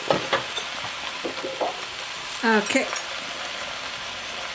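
Butternut squash and onions sizzling in a pot, a constant frying hiss with a few utensil clinks and a brief scrape, a short spoken word near the start.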